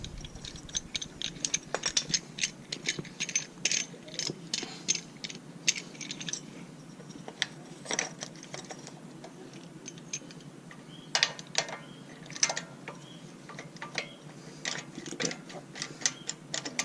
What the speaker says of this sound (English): This is a brake pad spreader.